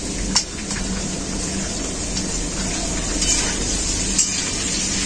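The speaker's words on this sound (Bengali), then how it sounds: "লাউ শাকগুলো আলুর সাথে একটু কষিয়ে নেব।" Bottle gourd greens stir-frying in hot oil with potatoes give a steady, dense sizzle that holds at an even level throughout, with a few brief crackles popping out.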